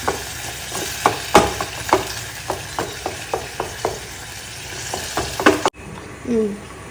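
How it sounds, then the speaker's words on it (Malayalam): Potato curry stirred and sizzling in a pan as boiling water goes in, with a steady frying hiss broken by a dozen regular scraping knocks of the spoon, then a sudden hush and a softer simmer. "ആവശ്യത്തിന് വെള്ളം ഒഴിക്കാം"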